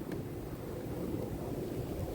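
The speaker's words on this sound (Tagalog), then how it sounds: "Ito na yung inaabangang snowstorm." Strong snowstorm wind gusting through Montreal in winter, a steady, dense roar of low rumble and buffeting with no voices.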